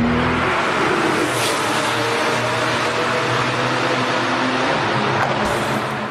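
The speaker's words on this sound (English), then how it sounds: "There is one noise you do want to hear in a sports car though, and that's the engine." A new Porsche 911 sports car engine roars in a loud, steady broadband drone with a slight swell in pitch, close and continuous throughout with no talking.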